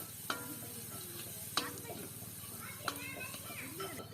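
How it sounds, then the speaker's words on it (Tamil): Green chillies and fennel seeds sautéing in a pan at an outdoor village kitchen, with a low steady sizzle and a few sharp stirring clinks under faint background voices. "வெட்டி வச்ச பச்சை மிளகாயையும் போட்டு வதக்குவோம்"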